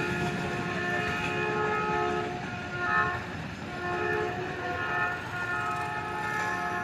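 The Jaffar Express passenger train rumbles past at Shahdara Bagh Junction near the Ravi railway bridge. A sustained wheel and engine drone holds steady with slight swells, and no one speaks.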